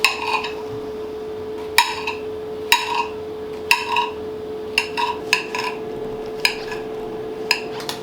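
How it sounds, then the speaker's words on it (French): A kitchen knife chopping mushrooms into thin slices on a cutting board for a vegetarian picnic dish: a dozen sharp, close knocks at an uneven pace over a constant low hum, with no talking. "Je coupe le champignon en 2, en 3. Je le coupe en petites tranches."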